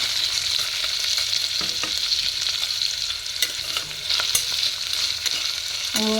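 Brinjal curry ingredients frying in a small cooker give a continuous close sizzle, broken by a few scraping stirs and a metallic clink near the end.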